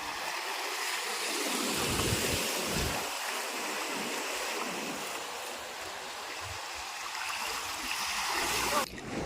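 Continuous rushing sea waves at Mahe beach in Kerala, a broad steady wash of surf with swells that rise and fall, heard close and fairly loud without any talking.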